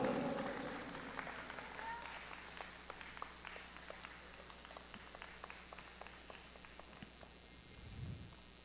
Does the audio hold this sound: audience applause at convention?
yes